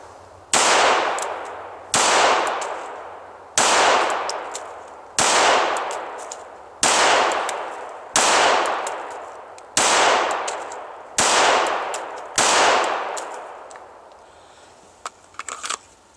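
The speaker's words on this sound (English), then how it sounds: "So we fired, I don't know, 8, 9 shots, 10 shots maybe" Handgun shots fired one at a time at a target on a range, about nine sharp reports spaced roughly every one and a half seconds, each with a ringing decay, loud and close with no talking.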